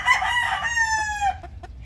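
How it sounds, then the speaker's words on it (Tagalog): A young gamefowl stag of the Butcher, Sweater, Gull or Grey line, raised on stag developer pellets, gives one close, loud crow of about a second, rising and then trailing off with a falling tail, with no other sound around it. "Ito yung nagtitilaok."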